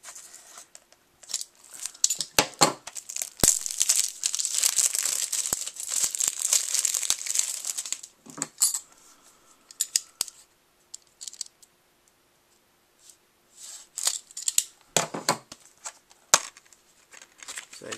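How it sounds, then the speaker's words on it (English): Slipcover slid off and plastic packaging of a Fallout New Vegas PS3 game case opened up close: bursts of crinkling, rustling and sharp clicks, busy at first, then sparse handling noises with quiet gaps. "So I'll just start off by taking off the slipcover and opening up the packaging"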